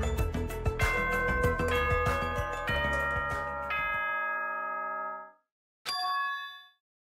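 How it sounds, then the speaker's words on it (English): School bell chimes from the video game Danganronpa 2 ring in a bright, clanging sequence of tones that sustain and fade, then one more short chime after a brief silence. "Was that a school bell just now?"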